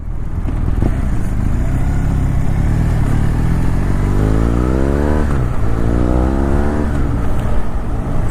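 A motorcycle with an aftermarket exhaust rumbles close by, its low growl rising and falling as the engine revs and accelerates, with steady wind and road noise throughout.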